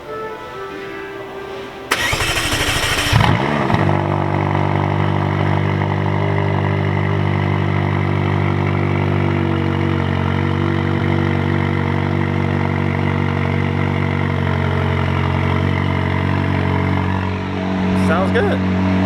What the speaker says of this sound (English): this is a cold start on the McLaren